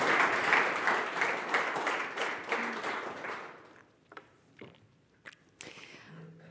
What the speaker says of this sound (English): I think it's a small round of applause here.